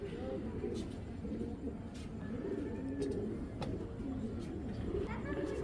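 Several old-breed Babra pigeons coo steadily in a loft, low burbling calls overlapping nearby while a person talks over them and faint chirps break through.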